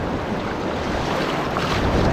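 Big ocean waves on a beach in Sierra Leone, a loud, continuous roar of surf mixed with wind buffeting the microphone.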